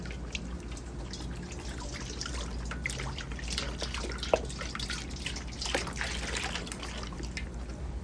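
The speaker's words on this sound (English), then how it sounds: "Just going to go ahead and rinse this pan out here." Water runs and drips while a cooking pan is rinsed out, a faint, continuous trickle with a few small splashes and clunks throughout, and no voices.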